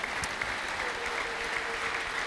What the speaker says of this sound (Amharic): እስቲ አጨብጭቡ